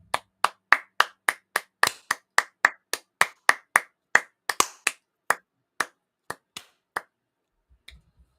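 Two hosts clap together during a live stream, about twenty sharp claps in a loose, uneven rhythm that drifts out of sync and slows toward the end, then stops.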